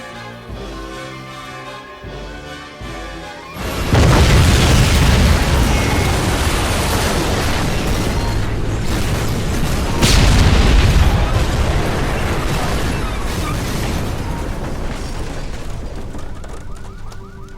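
Pyrotechnics blow up a train in a sudden loud explosion after a few seconds of tonal music, followed by a long, roaring, crackling rumble that stays heavy and slowly fades, with a second burst partway through.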